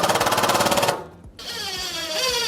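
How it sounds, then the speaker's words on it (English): A power drill or driver sinks screws into pre-drilled holes in a wooden glue clamp rack, a loud rapid ratcheting buzz that briefly stops, then a whining spin-down with clattering. "I'm gonna put a screw in a few of these holes because I know they won't get cut."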